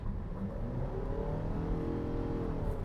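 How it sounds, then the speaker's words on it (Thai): A Nissan Serena (C27) engine revs steadily as it accelerates, a continuous low rumbling drone with road noise, close and fairly loud, with no voices. "ก็จะได้ยินเสียงเครื่องยนต์"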